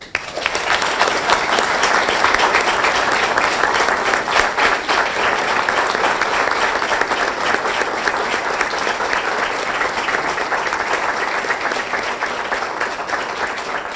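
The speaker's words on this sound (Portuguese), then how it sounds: "peço aos presentes uma grande salva de palmas" A ceremony audience in the grand hall of Alcanena's town hall, marking the 44th anniversary of 25 April, breaks into sustained, loud applause, dense and steady for the whole stretch before tapering slightly at the end.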